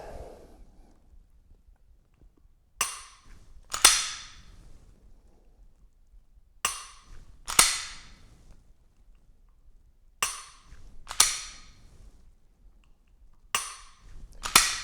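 Pistol dry-fire trigger practice with a Mantis X10 training system: crisp, close mechanical clicks in pairs, a sharp snap followed by a reset click, repeating at steady intervals of a few seconds over near silence.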